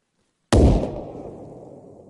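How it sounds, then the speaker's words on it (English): A single grenade blast in the video game Arma Reforger: sudden loud boom after a short silence, followed by a long rumbling decay that fades over about a second and a half. "if I throw a grenade in the middle"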